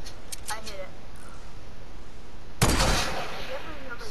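Video game gunfire bursts out in one loud, dense shot or short volley partway through, after quieter stretches of game noise, with players' voices present.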